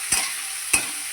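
Tomatoes, coriander and crushed dried Bombay duck being stirred in a pan, with two short scraping strokes over a steady bright sizzle, close and fairly quiet.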